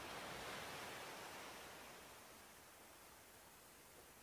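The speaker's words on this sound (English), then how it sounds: "Listen to the ocean" A broad rushing wash of surf on a tropical white-sand beach swells at the start, then slowly recedes and softens into a steady, hissing roll of ocean water.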